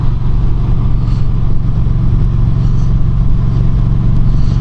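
A Kawasaki Voyager motorcycle cruises in sixth gear, its engine a loud, steady, even drone with a smooth low pulsing throb that holds unchanged from start to finish.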